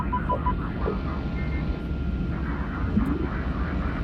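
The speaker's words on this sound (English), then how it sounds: "that next scene, it's the cockpit of the spaceship with the two pilots driving." Steady low engine-like hum of a spaceship cockpit ambience from a 2001: A Space Odyssey sound redesign, a dense continuous drone with faint tonal beeps over it and no speech.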